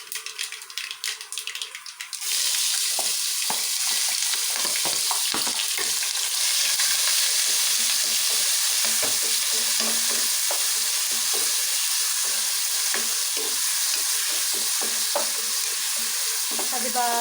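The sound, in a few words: frying ginger, garlic and green chili paste in a pan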